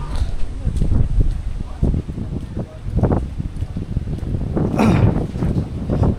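Strong typhoon wind and rain outside a house, heard as rough, rumbling gusts buffeting the microphone in uneven surges, with brief lulls between heavier blasts.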